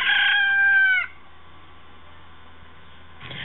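A rooster crowing sound effect opens a radio segment jingle, one loud drawn-out cock-a-doodle-doo lasting about a second, followed by quiet hum and a soft rise of sound at the end.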